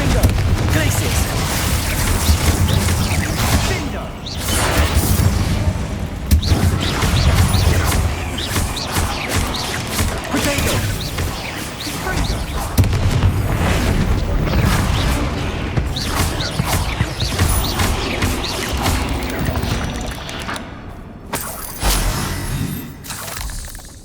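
Spell blasts, explosive crashes and shattering impacts from Hogwarts Legacy combat pile up in loud rapid succession over a game music bed, with a voice calling out spell names between the bursts.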